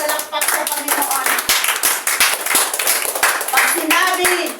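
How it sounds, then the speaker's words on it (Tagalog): A church congregation in San Mateo, Rizal breaks into loud, sustained applause, many hands clapping in a dense rapid patter that fills the room while a voice speaks over it. "Isa pong malakas na palakpak sa Panginoon"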